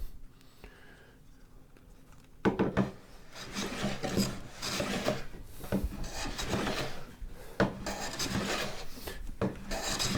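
A hand plane shaving wood on a tool tote build, working more aggressively so the blade skips across the surface in quick rasping strokes. The strokes are close, rough and continuous after a quiet start, with no talk.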